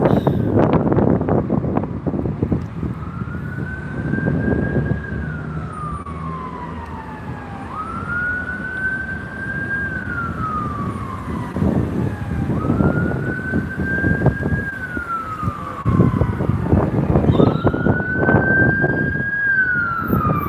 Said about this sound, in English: That's got to be another ambulance.